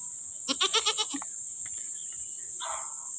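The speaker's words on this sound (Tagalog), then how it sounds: "Ayan, kambing." A goat lets out a loud, wavering bleat nearby, followed by a shorter, fainter call, over a constant high-pitched background whine.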